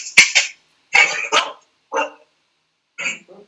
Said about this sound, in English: Do you have a dog in there, Judy?